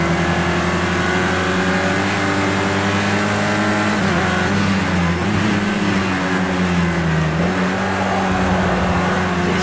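A steady, loud race car engine drones at high revs in Project Cars 2, with a slight dip and recovery in pitch near the end as the car lifts and accelerates again. No voices are heard.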